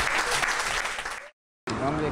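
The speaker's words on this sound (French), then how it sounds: "Applaudissez bien fort le Seigneur." A congregation at a French religious gathering claps in dense, loud, sustained applause that cuts off briefly and then resumes, with voices mixed in.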